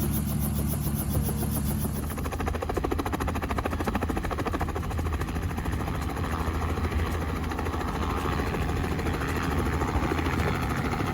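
A helicopter's engine and rotors drone steadily and loudly, a continuous thrumming whir heard from inside the cabin during a flight over Mount Aso volcano in Kyushu, Japan, with no pauses.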